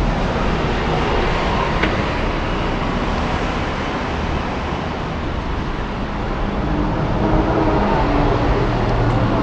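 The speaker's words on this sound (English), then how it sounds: "It's nice and slow on a tram here." Constant low rumble and rattle of a Hong Kong tram in motion between North Point and Western Market, with steady mechanical hum and rail noise and no talking.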